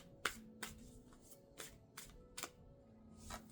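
A Green Witch Oracle card being drawn from the deck in a quiet room: a series of short, close card flicks and shuffling slaps at an irregular pace, faint and without talk.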